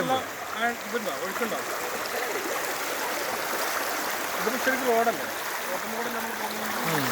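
Flood-swollen Meenchira stream rushes past in a steady broad wash, with birdsong chirping over it and a voice speaking faintly in the background.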